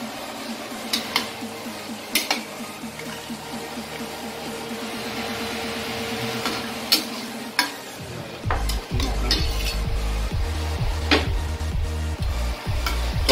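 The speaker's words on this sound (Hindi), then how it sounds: "चिकन का फैट मेल्ट ना हो तब तक हमें इसको फ्राई करते रहना है।" Chicken pieces fry with spices in a hot pan, a continuous close sizzle under repeated metallic scraping and clinking from a stirring utensil, the scrapes growing heavier and more rhythmic toward the end.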